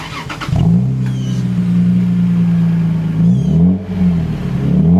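Lexus IS300 engine with a muffler-delete exhaust revving up from a quick blip into a sustained, loud, close-up drone, dipping and rising again near the end.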